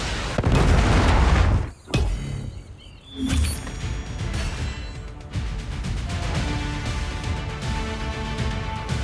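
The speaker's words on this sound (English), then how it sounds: "Predator missile inbound." Explosive boom from a Predator missile strike in a Call of Duty Mobile team deathmatch, a loud burst opening the clip, then a second impact followed by sustained rumbling battle noise and scattered gunfire.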